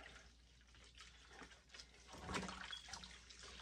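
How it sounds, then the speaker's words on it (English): A canning jar is washed in soapy water, with faint sloshing, splashing and dripping close by, swelling briefly midway, quiet overall and without talking. "And then I'm gonna wash it in soapy water."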